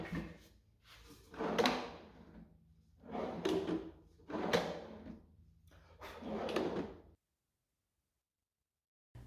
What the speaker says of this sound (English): I test fit the drawer and it was fitting just a little tight